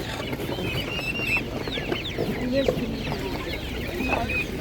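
Chickens at a village poultry market cluck and squawk repeatedly amid a busy crowd murmur, with people talking in the background.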